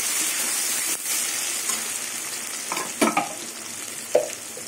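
Potatoes and onions fry in a pan with a steady broad sizzle, broken by a few louder stirring clatters near the end; no voices.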